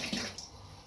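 Tap water runs steadily for wetting the face before a wet shave with a razor and brush, a short close splashing rush fading slightly, alone without talk.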